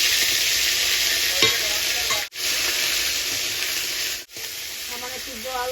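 Masala of onion, garlic, ginger and cumin is fried and stirred in a pan, a loud continuous sizzle with clinks of a stirring spoon, briefly dropping out twice.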